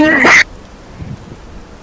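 A single loud, sharp sneeze at the start, followed by quiet room background with faint murmurs.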